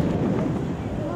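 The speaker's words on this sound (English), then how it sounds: "Noisy fireworks." Fireworks bursting at Busch Gardens in Florida, a loud, dense rumble of explosions that keeps going, with crackling pops throughout and a voice talking nearby.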